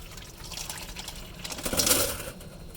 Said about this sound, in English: we're just gonna drain it into my bowl here